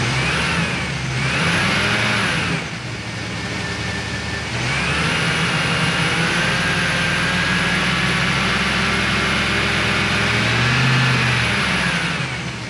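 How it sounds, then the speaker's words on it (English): Power steering pump on a 2004 Chevrolet SSR whines steadily when cold, a continuous whir under the engine's running drone that rises and falls with revs, close and fairly loud. "It's not a large whirring noise, but it is a noticeable noise out of the pump when it's cold."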